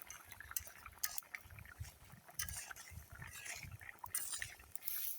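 Ground cumin and garam masala paste are stirred into an egg curry in a pot, giving faint, irregular scraping and clinking of a utensil against metal with soft liquid sloshing, repeating in uneven strokes.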